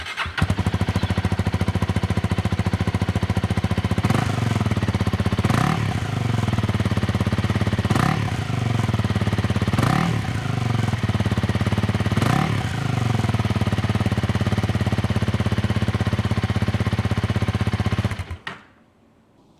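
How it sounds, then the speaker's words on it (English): A Honda Rebel 300 motorcycle idles loudly and steadily through a blacked-out muffler, with a few short rev blips before the engine cuts off at the end. "And here is how the muffler sounds."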